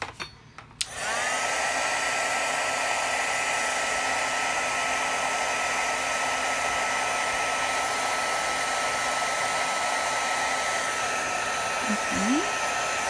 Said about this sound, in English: Let's go ahead before we blow this hot air around.